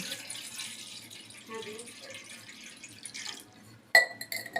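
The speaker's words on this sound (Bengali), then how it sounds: "সবার আগে দুধ চা করার আগে আমি অল্প জল নিয়েছি, পরিমাণ মতন জল" Water runs and splashes steadily into a pot, a small measured amount for milk tea, a continuous trickling wash that ends with a few sharp clinks of metal or glass near the close.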